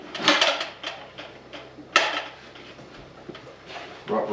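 Metal kitchen utensils clatter and clink as someone rummages through a drawer for a whisk in a homestead kitchen, several sharp rattling bursts separated by brief quiet gaps.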